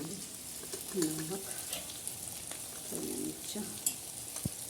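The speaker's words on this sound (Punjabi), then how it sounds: "ਲਓ ਜੀ ਮਸਾਲਾ ਭੁੱਜ ਗਿਆ" Masala spices fry in a pan on a traditional clay stove with a quiet, continuous sizzle, while a faint voice murmurs briefly in the background.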